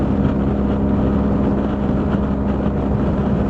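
Steady road noise from Mitas E07+ motorcycle tires, rougher than street tires, as the bike cruises along: a constant low rumbling drone with wind hiss, even and unbroken, with no talking.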